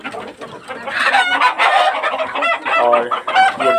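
A rooster crows loudly among a chorus of clucking Sonali hens on a layer farm, with several strained, rising calls close at hand.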